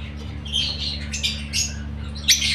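Birds give a few high, short chirping calls close by over a steady low hum, spaced irregularly with a sharper call near the end.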